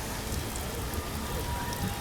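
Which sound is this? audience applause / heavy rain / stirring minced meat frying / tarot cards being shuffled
heavy rain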